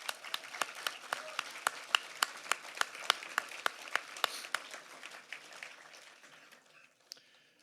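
Applause from a small audience at a US House candidate debate: a modest ripple of distinct individual claps, fairly quiet and sparse, thinning out and fading after about six seconds with a last stray clap.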